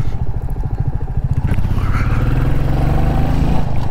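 Close, loud engine and exhaust of a Royal Enfield Meteor 350 motorcycle being ridden, a low rapid thumping pulse that rises slightly in pitch as it pulls along.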